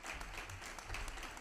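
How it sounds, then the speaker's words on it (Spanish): Quiet, steady applause fills the room at an award ceremony for a short horror story contest at a festival in Soria, Spain, heard as a soft, even wash of clapping without talk. "Recibir con un aplauso a Esteban Navarro Soriano, de Huesca,"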